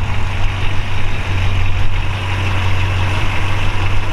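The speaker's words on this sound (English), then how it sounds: "This is a subtle performance 502 big block." A 502 big-block V8 with a mild camshaft in a 1950 Mercury convertible idles steadily nearby, a deep low rumble with a constant exhaust hum and no talking.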